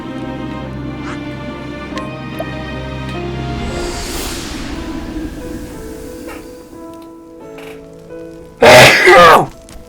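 A single sharp, loud sneeze bursts out near the end over a quieter bed of video game music and sound effects from Octopath Traveler.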